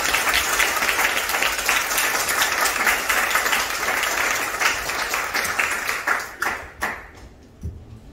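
A seminar audience claps to welcome a speaker to the podium, a full, dense round of applause that holds steady, then thins into a few scattered claps and dies away near the end.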